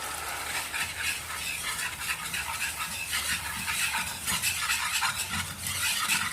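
Flour is stirred into melted table butter in a pan to start a white sauce, making a steady close scraping and swishing with a faint sizzle running continuously throughout.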